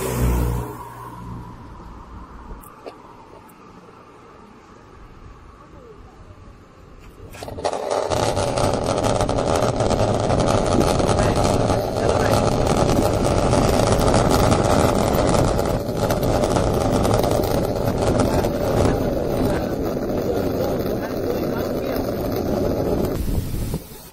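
A $199 electric skateboard ridden over land: after a quieter start, a loud, steady rolling roar with a motor hum sets in and continues without a break, close to the rider.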